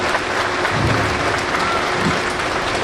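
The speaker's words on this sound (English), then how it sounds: "Let's give these veterans a big round of applause here" A graduation audience at Sinte Gleska University applauds veterans, steady sustained clapping filling the whole moment with a dense wash of hands, while a voice speaks faintly underneath.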